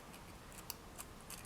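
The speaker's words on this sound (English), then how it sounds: "I'm going to use a pair of scissors to just trim around the outside like so." Scissors trim around the edge of a polymer clay pendant piece, giving a few faint, crisp snips spaced irregularly over a quiet background.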